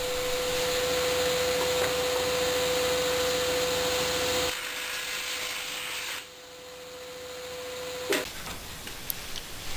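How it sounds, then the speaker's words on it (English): A table saw with a crosscut sled cuts wood strips to length for a box. The blade runs with a steady, even whine, the motor winds down partway through, and a few faint knocks and clicks follow. "Next, I use my table saw sled to cut the strips to length."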